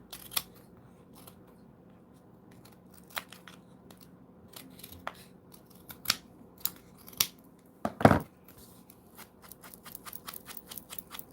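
Scissors snip something off in a few sparse, close cuts with pauses between them, ending in one louder clipping burst followed by light handling noise, with no voices.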